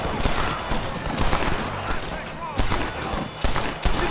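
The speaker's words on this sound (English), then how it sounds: "Who's shooting at me?" Gunfire in the video game Red Dead Redemption, a dense, continuous barrage of rapid overlapping shots, loud and close, with a voice talking under it.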